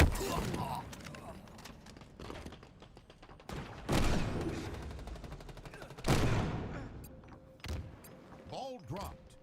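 Gunfire in Halo Infinite multiplayer: bursts of shots and heavier blasts spread through the clip among other game effects, fairly loud and near, with spoken game announcements in between.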